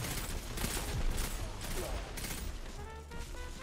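Rapid bursts of pulse rifle fire in Destiny 2 crackle loudly and densely over a busy game soundscape, with a voice briefly talking underneath.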